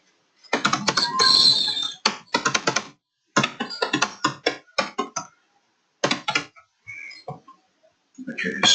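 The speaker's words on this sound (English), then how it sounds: "Okay, so I'm just typing something here." Bursts of clicky keystrokes on a computer keyboard, typed in quick runs separated by pauses, close and crisp, with a person speaking at times between and over the typing.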